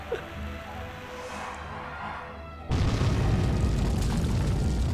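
A wrecking ball blows open a path in Dragon Quest 3 HD-2D: a sudden, loud, booming blast cuts in midway after quieter ambience, then a sustained, rumbling roar of debris fills the rest.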